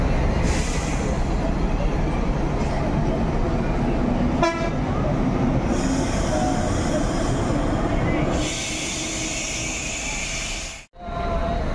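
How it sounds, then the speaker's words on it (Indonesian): A Gumarang Jaya bus leaving Kampung Rambutan terminal sounds a loud, sustained horn among busy terminal noise, with a voice on a public address system heard over it. "Diberangkatkan Gumarang Jaya pertama meninggalkan terminal Kampung Rambutan dengan Opin 8"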